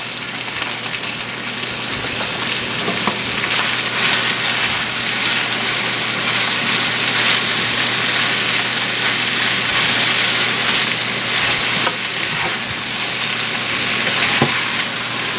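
Chopped cabbage dropping into a hot pan with smoked sausage, which sets off a loud, close, continuous sizzle like heavy rain that holds steady throughout, with occasional faint clicks and no voices.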